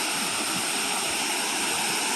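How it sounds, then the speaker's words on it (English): Waterfall in front of a dock, a dense, steady roar of rushing water filling the whole clip, loud and unbroken with no voices. "I'll show you another view of the waterfall again"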